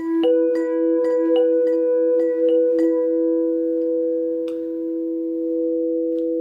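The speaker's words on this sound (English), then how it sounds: "Chimes, they're good with chimes," Bright chime tones struck in a quick series of several strikes, their pitches ringing on and sustaining long after the last hit.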